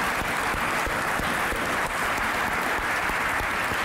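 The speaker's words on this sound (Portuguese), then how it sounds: "pedia mais uma vez uma salva de palmas" A university talk audience gives sustained applause, a thick, even wash of clapping that holds steady throughout without speech.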